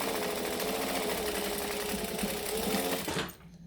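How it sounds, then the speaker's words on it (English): A sewing machine stitching and back stitching a lining, a steady close mechanical whir with rapid needle rhythm that stops abruptly near the end. "We're going to back stitch."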